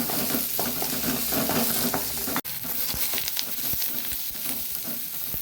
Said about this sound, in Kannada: ಸಣ್ಣದಾಗಿ ಹೆಚ್ಚಿಟ್ಟಂತಹ ನೀರುಳ್ಳಿಯನ್ನು ಹಾಕ್ಕೊಳ್ತಿದ್ದೇನೆ. ಹಾಕ್ಕೊಂಡು ಇದನ್ನು ಸ್ವಲ್ಪ ಚೆನ್ನಾಗಿ ಸ್ವಲ್ಪ ಪರಿಮಳ ಬರುವವರೆಗೆ ಹುರಿದುಕೊಳ್ಳೋಣ.